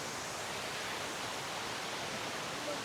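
A waterfall on a monsoon trek up Salva Hill in the Konkan, heard as a dense, unbroken roar of falling water, loud and close with no voices over it.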